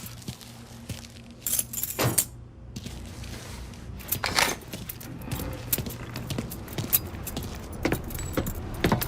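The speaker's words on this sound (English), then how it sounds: "You got the keys so you can drive." Keys jangling in the video game Mafia 3, several short metallic rattles against a low ambient background with vehicle and street noise.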